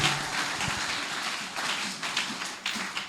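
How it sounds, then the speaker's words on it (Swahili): A church congregation applauds and cheers with joy in one dense, steady wash of clapping and voices that holds throughout and sounds fairly close. "Makofi na kelele za furaha."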